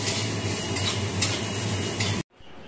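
Dishes, pots and pans being washed, with a dense continuous rush of running water and scrubbing, loud and close, ending in a sudden cut to quieter room sound.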